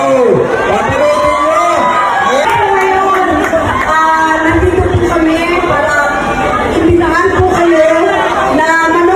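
Fans shrieking and cheering at an SM City Pampanga mall show as two stars come out to climb the stage; loud, sustained crowd screaming, close and continuous, with voices mixed in.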